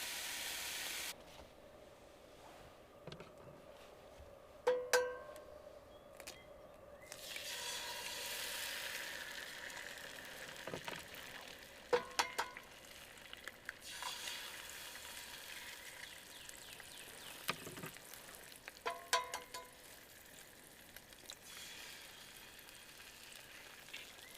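Eggs fry in a pan at an outdoor overlanding camp, a steady soft sizzle and hiss running throughout with scattered clicks and taps of a utensil, fairly quiet and with no talking.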